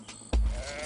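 A single sheep bleat starts after a brief quiet lead-in, loud and close, holding for about half a second before fading.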